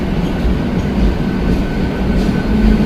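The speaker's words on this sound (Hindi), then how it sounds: "लोकल ट्रेन ओवरटेक मार दिया।" A local train overtaking near Delhi, beside the 12565 Bihar Sampark Kranti express, gives a steady, loud rumble of wheels and carriages that runs throughout with no talk.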